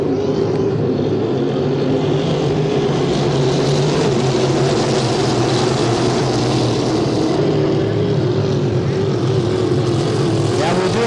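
Loud, continuous engine roar from hydroplane racing boats passing during a race heat at Brockville, a steady droning wash that holds throughout with a commentator's voice faintly underneath.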